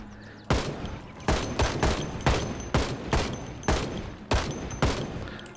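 Rifle fire in the zombie-survival game Project Zomboid, loud close bursts of gunshots in a steady rhythm, about nine sharp cracks spaced roughly half a second to a second apart, each with a brief ringing tail.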